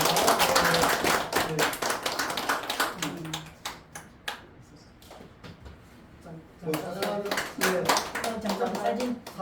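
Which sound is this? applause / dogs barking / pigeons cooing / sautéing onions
applause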